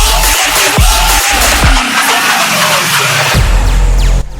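Loud electronic dance music from a remix, with dense layered synths, rising build sweeps and punchy drum hits leading into a drop, continuous and full throughout.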